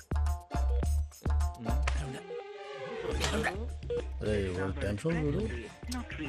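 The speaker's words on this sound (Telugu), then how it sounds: "ఈ ఫోన్ ఒకటి కలుస్తలేదు" A phone call being dialed that fails to connect gives a run of evenly spaced, loud tone pulses at the start, followed by continuous talk from several people.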